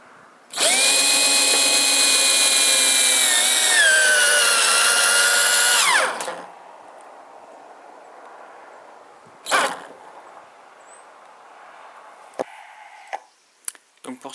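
A power screwdriver drives a screw into a batten under a roof tile panel, a loud, close, high whining spin lasting several seconds that winds down at the end, followed by quieter clicks and handling knocks.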